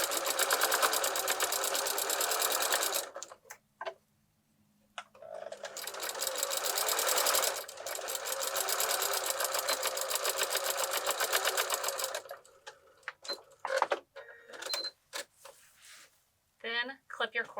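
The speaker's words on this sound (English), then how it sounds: "Back stitch." A sewing machine back stitching the seam of an insulated reusable bag runs in two long, steady bursts, stops briefly, then gives a few short stuttering stitches near the end, close and clear.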